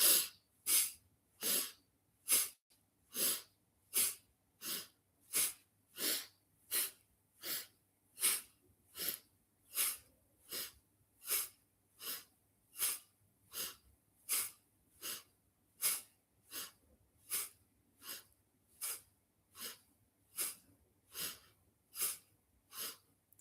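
Steady, paced breathing during slow shoulder shrugs: about two dozen evenly spaced, close breath sounds, each inhale and exhale clearly separated by quiet gaps, with no talking.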